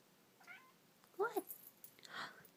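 A cat meows a few times, short quiet calls with one louder meow in the middle, close by.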